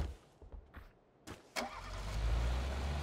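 A car engine starting in a video game: a few soft clicks and two sharp thumps, then the engine catches and settles into a steady low idle rumble that holds to the end.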